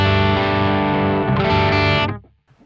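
Electric guitar through a modeller amp preset using EL34 power tubes at reduced gain, a single sustained, mildly overdriven chord ringing loud and alone for two seconds before being cut off.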